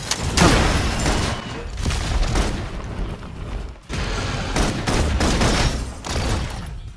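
Heavy suppressive gunfire in the sci-fi video game Love and Deepspace, a loud, dense run of overlapping shots and booms in sustained bursts with a brief lull in the middle.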